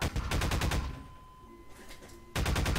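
SMG fire in the Half-Life 2 video game comes in two loud rapid bursts, one at the start and one at the end, with a quieter gap between them.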